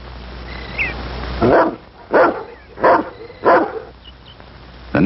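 A police tracking dog in 1960s Washington, D.C. barks during a training exercise: four loud, evenly spaced barks close by, with faint birdsong in the gaps and another bark starting at the very end.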